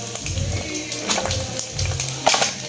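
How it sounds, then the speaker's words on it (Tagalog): Frog pieces frying in oil, a brief close crackling sizzle with bursts of spattering. "Tapos dito ako nagpiprito kasi para hindi siya tumalsik masyado."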